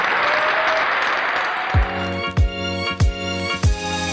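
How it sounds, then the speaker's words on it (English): Audience applause for the PDGA pro panel of disc golf players at the 2019 Glass Blown Open, a steady wash of clapping that fades after about 1.7 seconds as loud, regular low thumps begin. "let's show a quick round of applause for our pros here"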